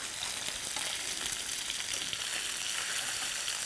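Bluefish frying in a pan, giving a steady, dense sizzle that holds at an even level throughout, close and alone with no talking.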